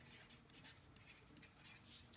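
A pencil writes on paper in a quiet room, giving a faint scratching made of short repeated strokes and one slightly louder stroke near the end.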